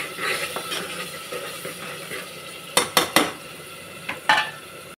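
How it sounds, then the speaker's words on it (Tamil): Ground masala paste sautéed in a pan for kadalai (chickpea) curry, a steady sizzle under busy scraping and clattering of a spoon against metal, with a few sharp louder knocks near the end, close up and without speech. "நல்லா வதக்கணும்."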